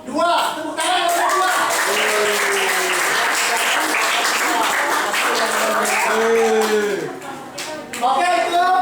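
Classroom applause for the top-scoring student group, steady loud clapping from a room of students that fills most of the stretch, with voices and cheering mixed in and a brief dip near the end.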